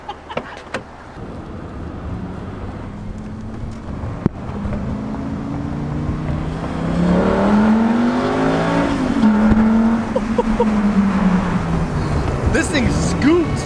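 A Lamborghini accelerates hard with a rising engine note that climbs and peaks near the middle, then holds as the car pulls away, with people talking over it.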